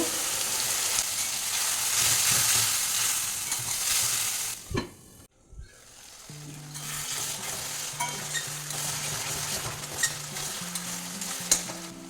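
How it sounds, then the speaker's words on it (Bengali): Spices such as Kashmiri chili powder and coriander powder are stir-fried with a splash of water in a pan, giving a loud continuous sizzle. There is a short break with a clunk midway, then the frying resumes with a faint low hum underneath. "একটু অল্প জল দিয়ে এটা ভালো করে কষে নেব"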